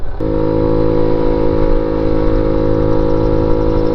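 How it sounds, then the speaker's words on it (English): A 1985 Honda Elite 150 scooter engine idles after an oil change and gear change, a loud, steady, close hum with strong harmonic tones that holds unbroken for the whole stretch. "So new oil change, new gear change, the bike is sounding pretty good."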